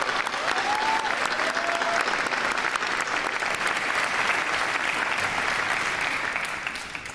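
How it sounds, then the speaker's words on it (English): A crowd claps steadily through a round of applause at a middle school 8th grade recognition ceremony, a sustained wash of clapping that eases off toward the end. "I'll read the name, and then we'll do a round of applause"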